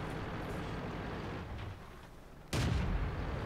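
Artillery fire in the World of Tanks game, a steady rumbling battle wash broken by one sudden heavy boom near the end, loud and without talk.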